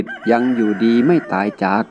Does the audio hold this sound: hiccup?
no